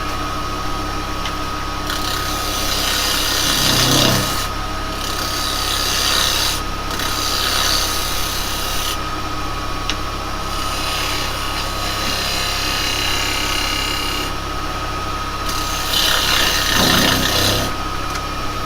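A woodturning lathe spins a skull-shaped Halloween bowl while a tool cuts a tenon on it, producing a loud continuous scraping whir with gouge pressure swelling and easing in intervals, no speech.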